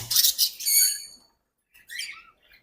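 Pied finches and pied budgerigars chirping up close, a quick cluster of bright tweets followed by a short pause and a few more calls.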